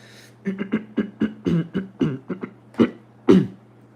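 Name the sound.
throat clearing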